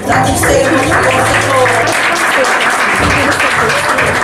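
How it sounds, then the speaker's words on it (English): A large audience applauds loudly and steadily at a fashion show, the dense clapping filling the room while someone speaks over it. "So please give yourselves a huge round of applause."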